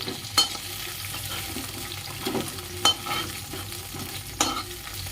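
Something fries in a pan for a drumstick cashew masala curry, a steady close sizzle broken by a few sharp scraping or stirring clicks, with no voices.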